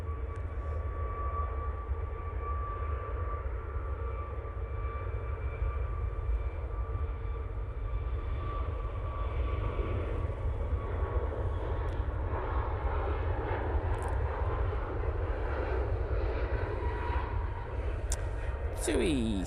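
A TUI Boeing 737 MAX 8 at Manchester Airport gives off a loud, continuous jet engine roar with a high whine riding on top, sustained without a break.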